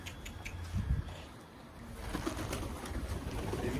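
A tumbler pigeon coos softly a couple of times against a faint outdoor background hum.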